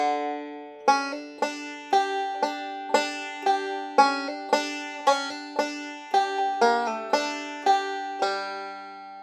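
A bluegrass banjo picks a phrase, bright plucked notes rolling in a quick, even rhythm, each ringing briefly before the next, played solo and close.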